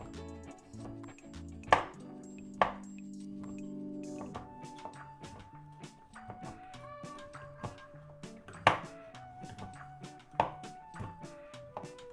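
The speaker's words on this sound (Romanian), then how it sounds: "Mărunțălim ciocolata folosind un cuțit ascuțit." A sharp knife chops chocolate on a board for American chocolate cookies, giving scattered crisp knocks and several louder thuds over soft kitchen background music, no talking.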